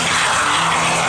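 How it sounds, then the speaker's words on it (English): Twin-turbine model A-10 jet, a scale jet fitted with two Zysoi 180 turbines, flying at a model airfield; a loud, steady broadband turbine roar fills the whole moment with no talking. "This one again is an A10 Skymaster, and this has two Zysoi 180 turbines."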